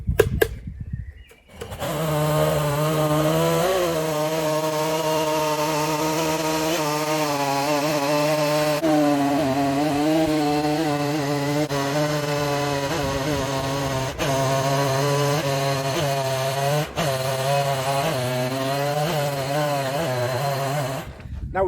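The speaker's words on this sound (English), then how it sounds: "we're ready for our last two milling cuts" A chainsaw mill cuts lengthwise through a log to square up a beam, the saw roaring loud and steady for about twenty seconds with a slight wavering pitch as it works through the wood.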